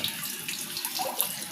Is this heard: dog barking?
no